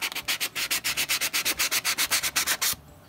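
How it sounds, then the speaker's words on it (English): Quick rhythmic back-and-forth strokes of 180 grit sandpaper scrubbing a stainless steel surface, loud and close, about twenty even passes before stopping abruptly. "A little bit of this 180 grit sandpaper."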